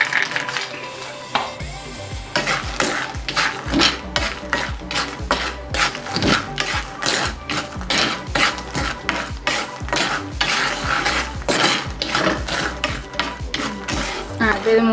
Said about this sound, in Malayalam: ഉപ്പിലേക്ക് ഇത് കപ്പലണ്ടി ഇട്ടിട്ട് കുറേശ്ശെ വറുത്തെടുക്കാം